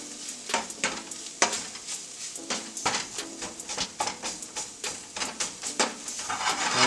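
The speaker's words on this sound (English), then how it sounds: "mash this jackfruit up a little bit. Make sure we're not getting it stuck to the pan." Jackfruit being mashed and stirred in a hot pan for pulled BBQ jackfruit, with a steady sizzle under repeated scraping, pressing strokes in an uneven rhythm, close and fairly loud.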